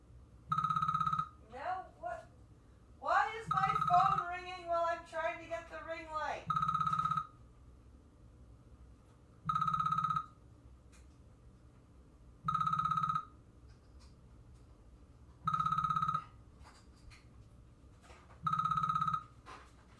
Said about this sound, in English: Why is my phone ringing while I'm trying to get the ring light?